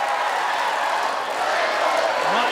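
A dense, continuous roar of a crowd cheering at a Ninja Warrior UK obstacle course event, loud and steady with no breaks, a wash of many voices and scattered clapping.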